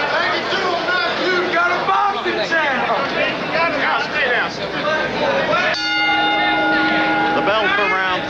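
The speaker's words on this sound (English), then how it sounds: "The bell for round three." A boxing bell rings out for round three of the Matthew Saad Muhammad vs Jerry Martin bout, its sustained metallic tone cutting through steady crowd noise and a commentator's continuous talk.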